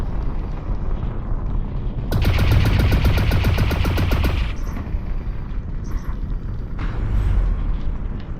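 Weapon fire on the tick in the VR game Lone Echo 2, a loud sustained rapid rattling burst lasting a couple of seconds, followed by quieter ambient hum and faint game sounds.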